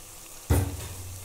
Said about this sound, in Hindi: नमक और थोड़ा सा हल्दी भूनेंगे ना मसाला भी इसी के लिए